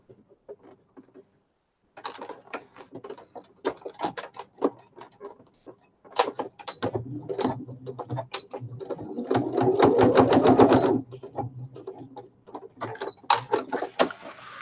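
A sewing machine stitches fabric for a machine cover in bursts of rapid, rattling needle strokes, starting with short jabs and building to longer, louder runs with pauses between, close and clear.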